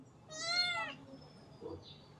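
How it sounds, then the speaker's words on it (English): A small kitten gives one clear, rising-falling meow up close, followed by a brief faint rustle or soft sound. "it seems to have been replaced by an even smaller kitten, which is heading your way"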